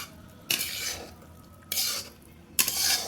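Fried vegetables are stirred in a pan and poured into a bowl, heard as three distinct bursts of scraping and clattering against quieter kitchen background, close and fairly loud.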